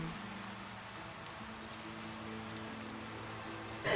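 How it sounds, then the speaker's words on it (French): Steady rain falls in the medieval strategy game The Guild 3, a soft continuous patter with faint scattered ticks, heard alone without talk. "avec la pluie là, ça rend difficile de se déplacer"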